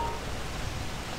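Steady rain falls in GTA V at a modded Del Perro Pier beach, a soft even hiss of drops and splashes with no talk.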